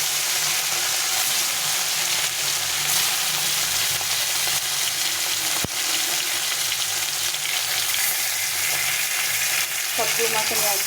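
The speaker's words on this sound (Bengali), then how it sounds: "সরষের তেল দিয়ে মাছটাকে ভালো করে ভেজে নিতে হবে।" Fish fries in a generous amount of hot mustard oil with a steady, loud crackling sizzle throughout, broken by one sharp clatter partway through.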